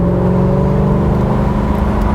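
A 1989 Corvette convertible with an L98 5.7-liter 350 V8 accelerates, its engine giving a steady, close, droning hum with a low throaty undertone for a couple of seconds.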